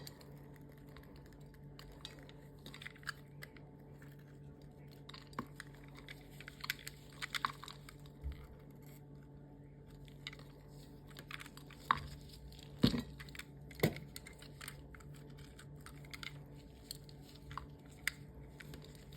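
Bashkir clay is chewed close up, giving faint scattered crunches and soft crackling bites that build to a few louder snaps near the middle.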